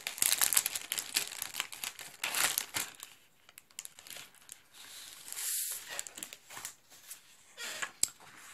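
Paper is handled, crinkled and pressed down to cover a craft surface, giving close, irregular rustles and crackles with short quiet gaps.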